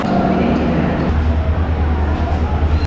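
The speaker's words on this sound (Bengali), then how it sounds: "আমাদের 6 নম্বর প্ল্যাটফর্মে ট্রেন এসে দাঁড়িয়েছে" A train stands at platform 6 of a railway station on the Puri to Kolkata route, its low steady engine hum loud and close with a constant rumble and a brief voice over it.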